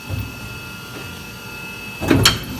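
The door of an injection molding machine is opened, giving a brief sliding clatter near the end over a steady mechanical hum in a factory.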